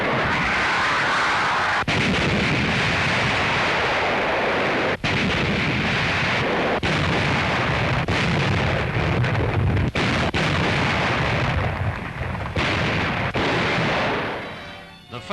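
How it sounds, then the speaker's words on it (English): Heavy explosions and fires from a naval air raid on Japanese positions in the Marshall Islands, a dense, continuous roar punctuated by sharp blasts and booms, loud and without pause. "Great fires and explosions flared up"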